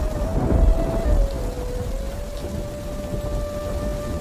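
Steady heavy rain during a thunderstorm, a dense continuous hiss of falling water with low rumbling thunder, loudest in the first second and a half, no voices.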